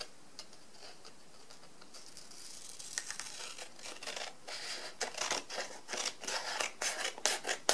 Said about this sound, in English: you see you have this extra paper. You're just going to cut that off.